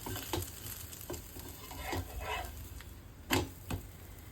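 Pesarattu, a mung bean crepe, frying on a hot pan, with a soft steady sizzle and a few sharp scraping or tapping knocks near the end as it is turned. Quiet and close, with no voices.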